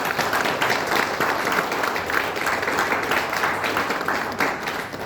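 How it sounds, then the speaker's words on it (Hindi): An audience at a Hindi talk gives a loud, steady round of applause: dense, sustained clapping from many hands that fills the room for several seconds. "उनके लिए एक बार जोरदार ताली बजाइए।"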